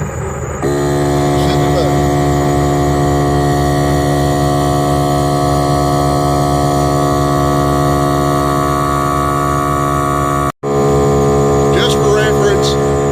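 A Milwaukee medium duty tire inflator airs up a large heavy duty tire, a loud steady motor whine with constant pulsing drone held close for several seconds, stopping briefly near the end before starting again.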